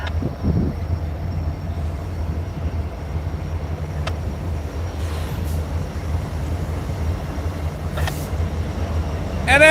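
Norfolk Southern locomotive NS 1020 rolls past in a classification rail yard, a steady low diesel rumble and wheel noise lasting throughout, with faint squeals, a few clanks and a louder burst at the very end.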